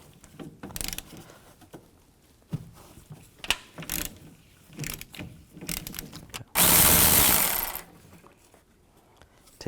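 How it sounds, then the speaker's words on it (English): 13mm socket ratchet loosening a nut under the hood of a 1999-2006 Chevrolet Silverado 1500: scattered close clicks and clunks of handling, then a loud, dense ratcheting burst lasting about a second and a half. "Using a 13mm socket, take this nut off."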